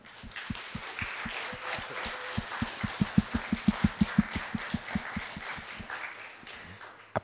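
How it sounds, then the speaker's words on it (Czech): Audience at a community event in Plzeň clapping for project organizers, rhythmic synchronized clapping with sharp regular beats that speed up slightly, then a last single clap. "Já bych ještě jednou vás poprosil o potlesk pro všechny realizátory projektů"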